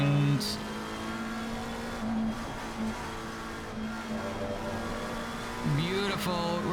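A race car's engine in Assetto Corsa Competizione drones at a steady pitch, dips briefly, then climbs sharply in revs near the end as the car accelerates hard, loud and close throughout.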